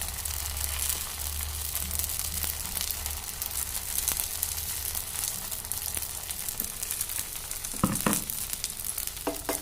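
Vegetable dosa batter frying in oil on a hot griddle, a loud, steady crackling sizzle that fills the whole stretch, with a few brief scraping clinks near the end.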